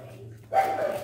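A yellow-coated puppy gives a short, close whine-yelp after a brief quiet stretch, its voice rising and then holding with no talk.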